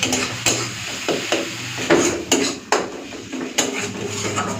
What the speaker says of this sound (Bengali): মশলাটাকে ভালো করে ভেজে নেবো যতক্ষণ ওর কাঁচা গন্ধগুলো না যাচ্ছে